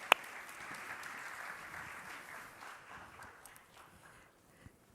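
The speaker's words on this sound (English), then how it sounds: "give a round of applause" Event audience applauding a panel, a light, moderately distant patter of clapping that starts with one sharp clap, then thins and fades over several seconds until only a few scattered claps remain.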